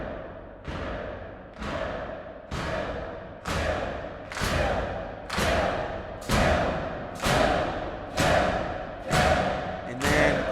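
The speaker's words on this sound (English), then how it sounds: "I also brought in this pounding, like they're pounding on their cells or they're pounding on the floor" Heavy rhythmic pounding, like prisoners beating on cell doors or a floor, repeats roughly every second in a game's main theme music, each booming thud decaying before the next.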